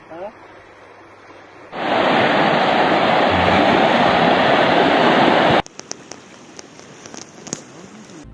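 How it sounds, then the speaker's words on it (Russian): Hurricane flooding a city in Krasnodar Krai, heard as a loud, dense roar of rushing water and wind that surges in, holds steadily for about four seconds, then cuts to quieter sporadic clatter. "Потужний ураган цього разу налетів на Краснодарський край, через що все місто просто пішло під воду."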